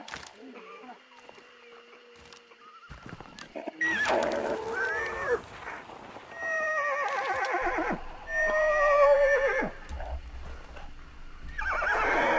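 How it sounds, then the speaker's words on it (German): Horses at a stagecoach in Hunt: Showdown give several loud, quavering neighs and whinnies in bursts, with quiet talk and soft movement between calls. "Die Pferde wiehern."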